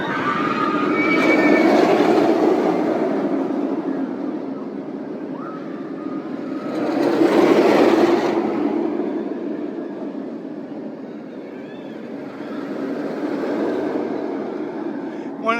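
Roller coaster train running on the Georgia Scorcher stand-up coaster at Six Flags Over Georgia, an unserviced train whose broad rumbling roar swells and fades in passing waves, with crowd noise underneath.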